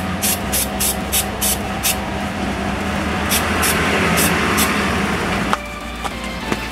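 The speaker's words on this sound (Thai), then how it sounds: "คือมันเป็นกาวสเปรย์ก็ฉีดจะให้โดนหน้าตัวเองแล้วกันนะครับ" A can of 3M spray adhesive is sprayed in a series of short, sharp hissing bursts, close and fairly loud, followed by a longer sustained spray and a few faint clicks.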